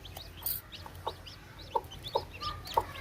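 Chickens cluck in a village yard, a handful of short, soft, separate clucks spaced over a few seconds against a quiet outdoor background.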